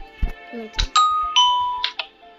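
A few clear, bright bell tones from a Minecraft bell ring out one after another, each decaying, mixed with some short clicks and thuds.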